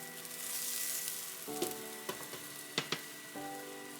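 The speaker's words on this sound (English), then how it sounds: "Gently place your lion's mane mushroom on the pan and press it down with a heavy lid, such as this cast iron one." Lion's mane mushroom searing in a pan under a heavy cast iron lid makes a soft, steady sizzle with scattered light crackles and a faint hum, fairly quiet and close, without speech.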